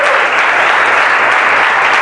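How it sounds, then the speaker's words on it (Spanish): A church congregation applauds loudly and continuously, a thick, even wash of many hands clapping close by with no break. "si me va a aplaudir, apláudalo fuerte."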